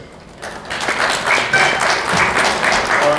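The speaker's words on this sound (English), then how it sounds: "A round of applause for Lloyd sir." An audience at a CLAT-2023 achievers meet begins clapping after a brief pause, swelling into sustained, fairly loud applause for a guest speaker.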